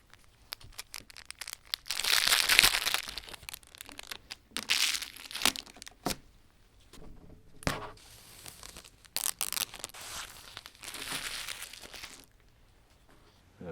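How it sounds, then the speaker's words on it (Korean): Product packaging crinkles and tears in bursts of rustling and ripping, loud and close, with pauses between handfuls and no talking. "먼저 리뷰하기에 앞서서 언박싱부터 빠르게 진행해 보겠습니다"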